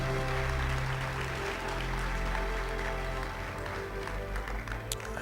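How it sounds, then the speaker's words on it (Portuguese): Congregation applauding in a church service, a dense sustained clapping that fills the whole stretch at a steady level, with a low hum underneath. "Se você quiser aplaudir a palavra, faça isso com capricho."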